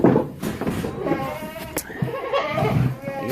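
Goats bleat in a few wavering cries amid barnyard shuffling, fairly close, with a person's voice briefly mixed in.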